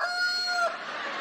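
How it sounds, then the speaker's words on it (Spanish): A single rooster crow rings out, close and clear, lasting about a second. "Efecto de la playa a las 3 de la mañana y cantó un gallo"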